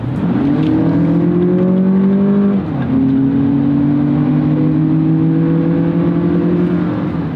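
A Lexus RX 500h F Sport accelerating hard on the road, its engine note rising steadily in pitch, dipping briefly at a shift, then climbing again, loud and close inside the cabin.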